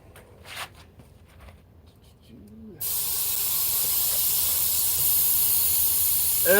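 Compressed air hissing steadily into an off-road side-by-side tire while seating the bead, a loud continuous rush that starts abruptly partway through after quieter shuffling and lasts to the end.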